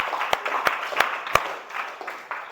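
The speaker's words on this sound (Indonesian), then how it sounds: "Tepuk tangan buat Maris." A classroom gives brief, scattered applause, a few sharp individual claps standing out over a soft, uneven patter from the group.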